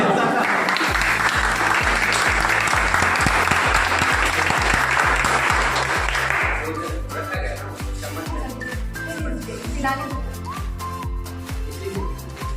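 A room of people at a level celebration claps steadily and loudly for several seconds, with rhythmic music beating underneath, before the clapping fades and the music carries on alone.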